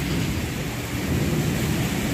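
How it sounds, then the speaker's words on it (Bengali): A thunderstorm with heavy rain and gusty wind roars continuously, a dense low rumble with a steady wash of rainfall and no voices. "বৃষ্টির সাথে ঝোড়ো হাওয়া।"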